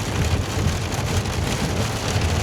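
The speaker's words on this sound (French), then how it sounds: "Ça y est, on est dans la tempête." Heavy storm rain beats on a car during a Canadian storm, a dense, loud, unbroken drumming roar on the roof and body, with no voices.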